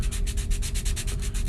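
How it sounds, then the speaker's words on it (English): A saxophone reed is resurfaced with a medium-grade sandpaper sanding tool, a close, rhythmic scraping of about a dozen quick back-and-forth strokes, evenly paced and alone. "we use this sanding tool to maybe bring it down, to resurface the reed basically"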